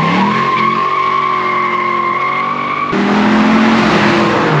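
A 1993 Ford Mustang Cobra accelerates through first and second gear, its engine droning loudly and rising in pitch, then dropping and climbing again after the gear change, heard close without any talking.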